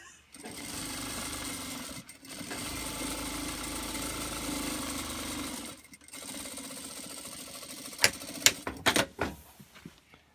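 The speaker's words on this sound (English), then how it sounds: "You're going to sew across the bottom of the bag by matching the seam up." A sewing machine stitches across the bottom seam of a fabric bag in long steady runs of fast, rattling needle strokes, broken by brief pauses, then a few sharp clicks and knocks near the end.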